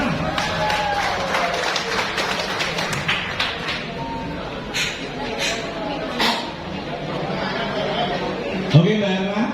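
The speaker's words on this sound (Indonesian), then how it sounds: "Tepuk tangan buat Mbak Erna." An audience at a business launch event in Yogyakarta claps for a woman called up front, scattered hand claps and crowd noise mixed under loud talking and cheering voices throughout.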